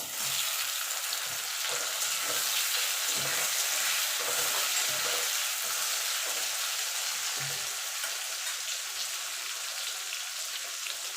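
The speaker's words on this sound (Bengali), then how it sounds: "পেঁয়াজটা লাল লাল করে ভাজা হয়ে গেছে এবার টমেটোটা দিয়ে দেবো" Tomatoes hiss and sizzle in a pan with onions already fried reddish-brown, for a spicy tilapia curry, a loud, even frying noise broken by soft thumps of stirring, close up and with no talking.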